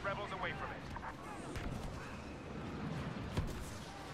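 Video game gunfire in Star Wars Battlefront multiplayer on PS4, a dense, continuous clatter of blaster shots and explosions at close range, with a player's voice talking over it.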